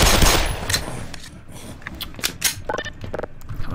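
Rapid gunfire in the Black Mesa video game, a loud opening volley followed by quick irregular shots and clattering bursts that continue throughout.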